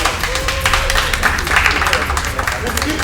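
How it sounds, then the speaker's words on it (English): Audience clapping for a speaker being welcomed to a podium at a Nigerian gathering, a steady patter of many hands at moderate distance, running under continuous talking from a voice on a microphone. "Please keep clapping as you come."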